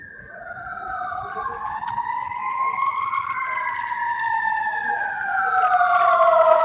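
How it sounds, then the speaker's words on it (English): Wailing fire engine sirens sweep up and down in overlapping tones, growing louder as they approach down a Boston street, with a low engine rumble underneath. "I hear the fire engines."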